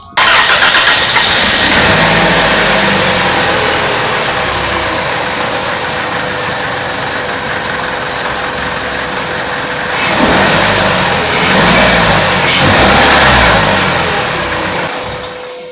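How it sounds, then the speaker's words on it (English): A car engine cranks and catches at the start, then runs loud and steady with the hood open, with a couple of revving surges toward the end. "Right, now it's time to turn on the car."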